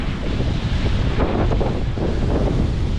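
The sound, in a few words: strong wind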